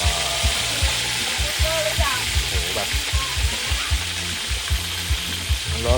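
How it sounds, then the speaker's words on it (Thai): Fish deep-fries in hot oil with a loud, steady sizzle and a dense patter of bubbling pops, close and continuous throughout. "ช่วงนี้ก็รอปลาทอดกรอบๆไปก่อน"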